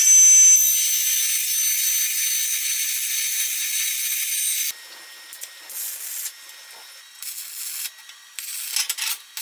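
A metal piece is cut to 80 mm to match a length of angle iron. A steady, thin, high-pitched whine runs for about five seconds, then breaks into short, intermittent bursts.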